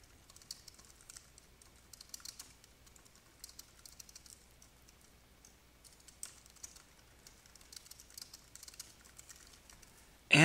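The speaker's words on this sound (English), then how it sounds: "Simply type in a solution request here." Soft typing on a computer keyboard in a quiet room, bursts of light rapid key taps with short pauses, ending in a sudden loud thump.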